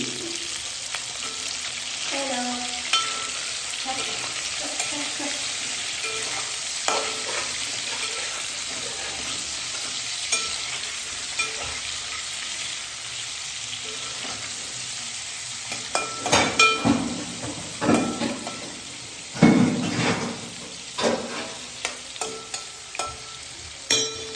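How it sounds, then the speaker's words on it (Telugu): Frying and stirring in a pan as chopped onion and green chilli are added, a steady sizzle with intermittent scraping and clattering strokes that grow louder and busier toward the end, no talk over it. "కొంచెం వేపుకుందాం"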